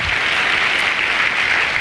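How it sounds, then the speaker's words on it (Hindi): Loud, continuous clapping from an audience at a Safe Shop business gathering, a dense, even wash of applause filling the brief moment. "जोरदार तालियां"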